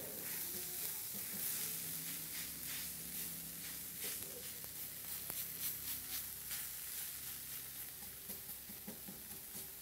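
Vegetarian ginamos with tofu sizzles and fries in a pan while being stirred, a steady close hiss with scraping clicks throughout and no talk.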